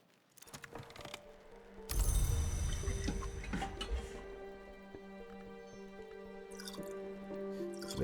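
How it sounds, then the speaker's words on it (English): Isle water poured out in the video game Book of Hours: a sharp splash and drip opening into a rich, ringing liquid pour that trails off into a softer sustained tone. "we can grab our isle water here. And we can pour some of that out"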